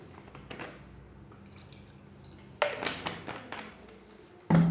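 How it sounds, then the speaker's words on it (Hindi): Water poured into a container while mixing an aluminum cleaner and brightener, heard as faint, quiet trickling and dripping with a few louder splashes near the end. "इसमें हम थोड़े पहले पानी ले लेंगे"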